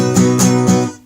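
Three guitar strums in an even one-two-three count, each ringing chord clear and close, the last fading out with no voices.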